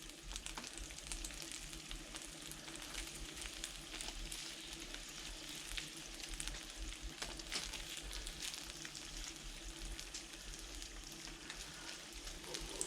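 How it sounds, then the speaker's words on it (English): Carrots sautéing in a pan on a stove, a steady close sizzle and crackle that holds evenly throughout with no talking. "I just want to saute these carrots just a little bit."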